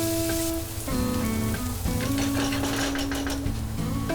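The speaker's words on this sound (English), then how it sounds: "Add 2 onions chopped and fry this until the onion is soft" Chopped onions fry in hot oil in a pan for a Goan ribbon fish dish, crackling and sizzling steadily like light rain beneath louder background music.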